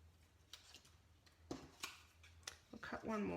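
Scissors snip paper circles with decorative edges for a double easel card, a few faint, sharp cuts spaced about a second apart in a quiet room, followed by a voice speaking at the end.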